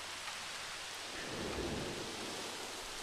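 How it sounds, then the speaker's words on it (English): Steady rain with a low rumble of thunder swelling in the middle, from a stormy night scene in Jurassic World Evolution, a dinosaur park management game. The wash is continuous and moderately loud, with no voices. "Which now is getting dark because it's raining again."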